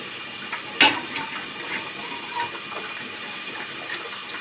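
Gas pressure from a biodigester bubbles and gurgles through liquid in a steady, low hiss of water. A sharp click sounds early on, and soft irregular bursts of bubbling follow nearby.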